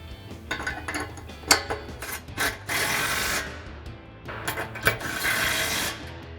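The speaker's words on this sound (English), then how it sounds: "we're gonna grab our 13mm socket and tighten these down." Ratchet with a 13mm socket tightening the bolts of RedRock heavy duty steel side steps on a Jeep Wrangler JL, heard as bursts of rapid clicking ratchet strokes with scraping and rasping in between, close up, with no talk.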